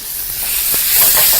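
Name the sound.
frying masala sauce for chips masala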